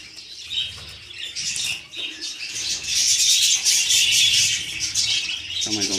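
Budgerigars, rainbow Australian parakeets, chatter in an aviary with chicks, a dense steady layer of high chirps and warbles with some wing flutter, close and fairly loud throughout.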